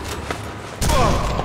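A sniper rifle shot in Sniper Elite V2 Remastered, with a faint earlier pop and then a sharp, loud crack whose echo rolls on, with no talking.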